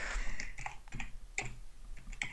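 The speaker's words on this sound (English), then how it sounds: "when I type dot" Computer keyboard typing during a C++ programming session, a handful of irregular, close clicking keystrokes over a faint background hum.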